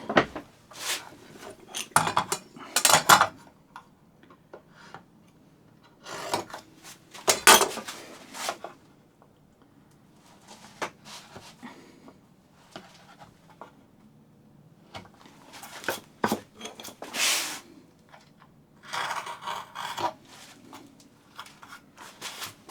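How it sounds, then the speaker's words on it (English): A knife severs wood fibres at the shoulders of a tapered sliding dovetail joint. It makes a series of sharp, close scraping and knocking bursts with quiet gaps in between, and the bursts are unevenly spaced. "Drop a knife back in there, sever them, remove them, flip over, do the same to this side."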